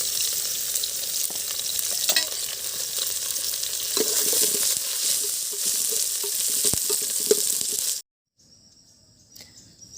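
Oil sizzles and crackles steadily while chicken puta fries Odisha village style, a dense, close hiss broken by small pops and stirring, then cutting off abruptly near the end to near quiet.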